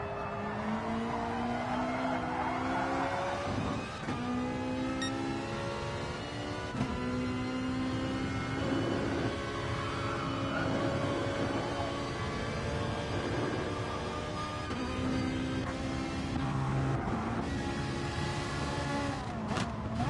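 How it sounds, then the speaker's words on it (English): A GR3 Ferrari race car engine in a video game revs high and shifts repeatedly, rising and dropping in pitch through gear changes, loud and continuous with no talking. "especially the GR3 Ferrari, best sounding engine in the game."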